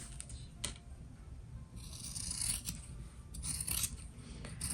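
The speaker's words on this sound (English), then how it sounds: "you can go and trim all around just to make it smaller" Scissors trim fabric interfacing with close, quiet snips and rasping cuts, several bright clicks scattered among longer scraping strokes of the blades, no talking.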